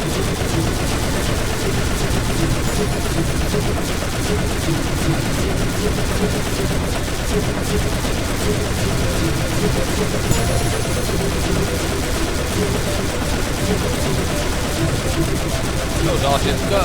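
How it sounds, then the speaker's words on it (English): Ion Blast 2 weapon in the game FTL firing in a rapid, continuous barrage, dense and loud throughout, mixed with other game sounds and a low background bed. "The Ion Blast 2 has a very, very high fire rate."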